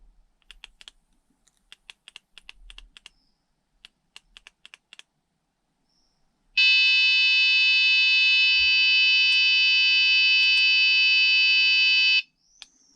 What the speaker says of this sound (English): Low voltage alarm